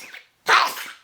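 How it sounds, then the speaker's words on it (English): One loud, close human sneeze bursts out after a faint breathy intake, then trails off quickly. "Hold on, I sneeze."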